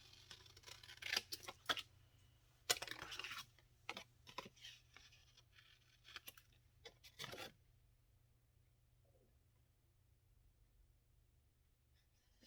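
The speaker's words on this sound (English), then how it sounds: "I'm just going to cut this extra off" Scissors trimming off extra material, a few short snips and rustles close by in bursts, then quiet.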